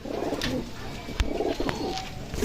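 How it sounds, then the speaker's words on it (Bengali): A pair of Pakistani teddy pigeons at a pigeon dealer's loft coo in low, repeated rolling phrases, close and steady, with brief sharper bird calls cutting through. "এখানে এক পেয়ার টেডি কবুতর আছে"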